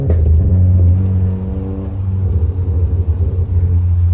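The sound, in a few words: modified Skoda Superb exhaust while driving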